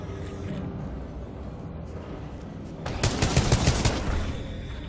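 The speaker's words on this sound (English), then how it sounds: "That fucking turret!" Turret fire in the Titanfall 2 campaign, a loud, dense stream of rapid shots that swells sharply partway through over constant battle noise.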